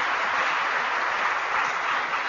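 Dense, even applause from an Agriculture Day audience fills the space, loud and sustained for its whole length with no voices above it.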